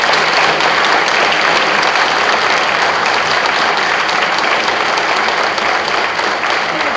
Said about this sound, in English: why don't you give another nice round of applause to our speakers